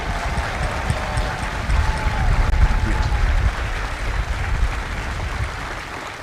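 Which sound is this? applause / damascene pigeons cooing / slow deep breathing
applause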